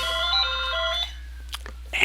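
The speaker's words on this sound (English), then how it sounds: "answer the phone." A telephone ringing with an electronic melodic tone that steps between pitches for about a second, followed by a few faint clicks and rustles over a low constant hum.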